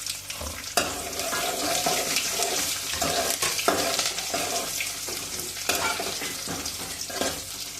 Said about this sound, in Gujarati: લસણ લીધું છે એ પણ આપણે તેલમાં નાખી દઈએ એટલે સરસ તે પાકી જાય.